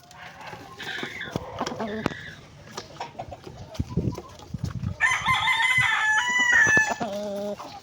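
An Asil rooster crows loudly and close, a long strained call near the end, preceded by clucks and farmyard bustle, with a little speech mixed in.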